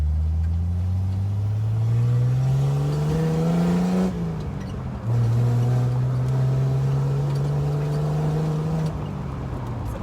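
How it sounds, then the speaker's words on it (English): A Jeep Wrangler TJ with a modified exhaust pulls at quarter throttle, around 3,000 RPM and 35 mph, its loud, deep engine note rising in a long rev, dipping briefly at a shift, then climbing again with no voices. "It sounds kind of V8-ish, but you can still tell it's smaller."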